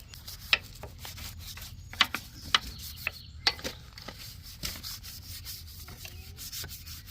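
Stiff brush scrubbing dirty truck parts clean by hand, producing uneven rasping strokes with a few sharp knocks and clicks, close up and fairly quiet, without talk.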